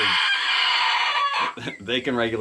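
Two-week-old meat chickens cluck and chatter close by, a raspy continuous call breaking into short, choppy clucks near the end.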